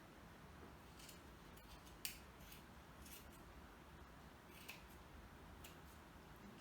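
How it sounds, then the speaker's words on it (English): Quiet, crisp snips of sharp scissors cutting fabric for a fluffy craft sheep, several short cuts spaced irregularly against a faint background hiss. "you're going to need a quite sharp pair of scissors"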